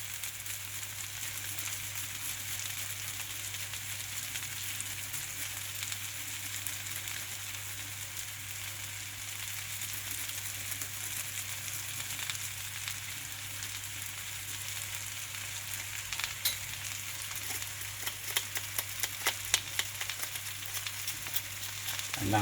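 Grated fresh ginger sizzles steadily in a hot pan while a vegan curry is cooked, a constant frying hiss that picks up a few sharper crackles and pops toward the end.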